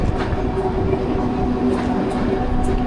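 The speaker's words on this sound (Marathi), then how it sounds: "आपली ट्रेन त्या लाईनवर वळालेली" A Mumbai local train runs steadily while switching tracks, giving a continuous loud rumble of wheels with faint rhythmic clatter and steady tonal hums throughout.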